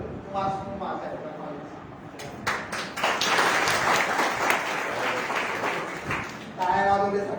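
A college audience breaks into a few seconds of applause in the middle of a career talk, with someone speaking before and after the clapping.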